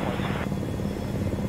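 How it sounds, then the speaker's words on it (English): An in-game helicopter on an aerial resupply run thrums with a steady rotor chop and engine drone, fairly loud, with a brief burst of radio-style noise at the start. "we have one aerial resupply coming via helicopter"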